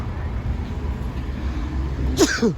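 One short, sharp human sneeze near the end, heard inside a Honda Civic 2021 EXL car over a low steady cabin rumble.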